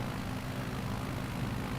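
Propeller aircraft engine in Microsoft Flight Simulator 2020 during takeoff: a steady, loud droning hum with a low, rumbling throb, continuous and unbroken.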